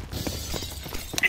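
An incendiary grenade is thrown in CS:GO on the Inferno map, ending in a short, sharp breaking crash right at the close, after a stretch of low game noise and faint footsteps.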